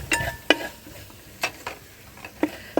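Coriander powder, added to green chillies and chilli powder for a chicken curry with fried onions, sizzles softly in a hot pan while a spoon scrapes and stirs in a handful of short, separate strokes.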